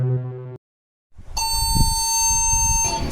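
Emergency alert system alarm: a brief low buzzy tone cuts off, then after a short silence a sustained high electronic beep-like alert tone sounds over some rumbling background noise.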